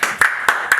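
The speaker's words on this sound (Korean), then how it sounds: "우리 곽지원 교수님을 한번 큰 박수로" A few distinct hand claps ring out at a Korean talk-show taping as a bread-baking professor guest is welcomed, three sharp strikes spaced evenly over a steady background hum.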